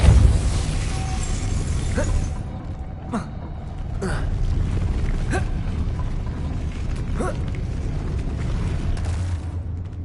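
Several sharp magical bursts from the Depulso spell being cast in Hogwarts Legacy on PS5, spaced a second or two apart over a steady rumbling game ambience.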